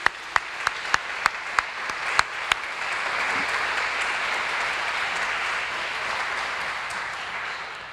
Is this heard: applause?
yes